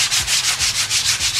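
Sandpaper of 100 grit rasps back and forth over body filler on a car, in quick, even strokes, a steady rhythmic scratching close by.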